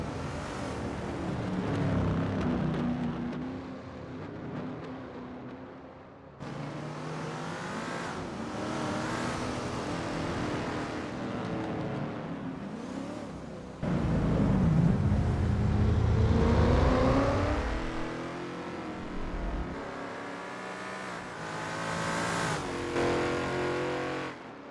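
Lola T70 MkII Spyder race car in a racing game at Kyalami, its engine loudly revving and shifting through gears with tire squeal, pitch rising and falling over repeated acceleration runs with brief lifts between them.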